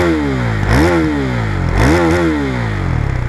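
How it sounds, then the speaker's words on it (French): Husqvarna Vitpilen 401 2020 motorcycle with an aftermarket exhaust, its engine revved hard twice from idle, each loud throaty rise and fall up close before settling back to a rumbling idle. "il propose un pot, tu vois, c'est sympa, il y a du son, on va l'écouter, on fait un essai de pot"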